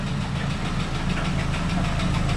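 Diesel car engine idling steadily and warming up after an engine swap with a turbo, a continuous close, loud low rumble with a faint knocking rhythm throughout.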